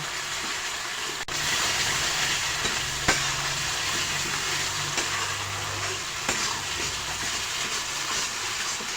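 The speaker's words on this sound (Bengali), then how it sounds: "এতে সামান্য নুন হলুদ দিয়ে ভালো করে ভেজে নেব।" Continuous sizzling of potatoes and ground spices frying in a pan with salt and turmeric, with a few sharp clinks and scrapes of stirring, loud and close, with no talking.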